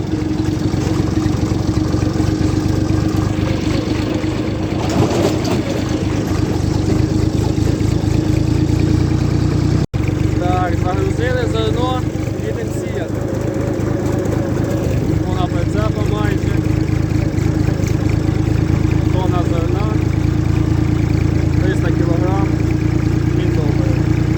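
DT tractor engine running steadily at a constant rumble with a trailer hitched on a farm during winter wheat sowing, loud and close, with voices talking over it in places.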